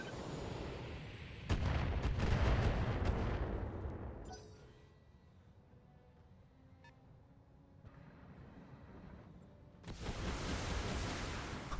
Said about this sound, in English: the missile's just exploding right on top of it, because it can't hit